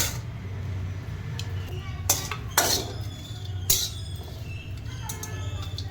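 Dried fish roasts in a pan for chutney while a metal spoon stirs it, with a few sharp scraping clinks against the pan over a low steady background hum.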